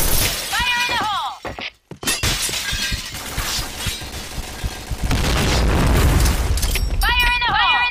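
A grenade blows up in the first-person shooter Point Blank, a loud crashing burst with shattering debris and a long rumbling tail, among gunfire and game sound effects, with a game voice heard briefly.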